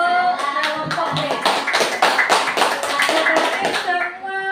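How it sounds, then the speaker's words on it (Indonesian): A fourth-grade class claps for a student group, with brisk, close, uneven hand claps over children's chatter and noisy classroom background. "tepuk tangan untuk kelompok B"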